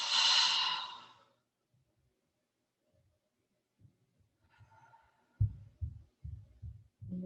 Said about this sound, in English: a deep cleansing breath in through the nose and out through the mouth